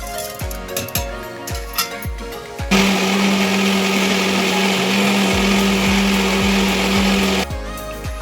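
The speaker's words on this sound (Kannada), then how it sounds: "ಈಗ ಈ ಪದಾರ್ಥಗಳನ್ನೆಲ್ಲ ಒಂದು ಮಿಕ್ಸಿ ಜಾರಲ್ಲಿ ಹಾಕಿ ನೈಸಾಗಿ ರುಬ್ಕೊಳ್ಳೋಣ." A mixer grinder jar loaded with coriander, tomato, onion, garlic and ginger whirs in short pulsing bursts, then runs in a loud, steady, high-pitched grinding roar for several seconds before pulsing again.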